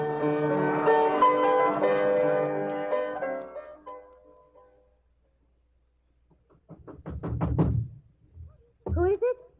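Banging on a door in a Western radio drama: a run of heavy knocks follows a voice, then a pause and further speech, moderately loud and close.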